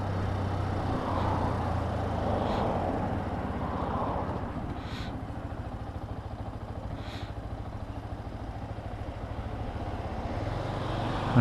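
A Benelli 125 BN motorcycle rides along at steady speed, its low engine drone joined by wind rush and occasional faint passing sounds, with no talk.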